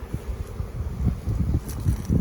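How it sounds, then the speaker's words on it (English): Gusty wind buffets the microphone in low, uneven surges, rising and falling every half second or so, with no voices. "Like I said, it is super windy."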